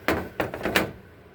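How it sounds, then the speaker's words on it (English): A classroom drawer holding paint trays is shut, giving three quick wooden thunks in close succession, close and fairly loud, followed by quiet. "And then the drawer is just shut."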